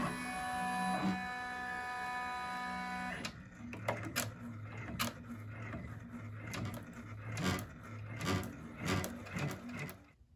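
An embroidery machine stitching a placement outline for an in-the-hoop bag: a motor whine first, then a run of rapid, sharp needle clacks and thumps, close and fairly quiet, with no talk.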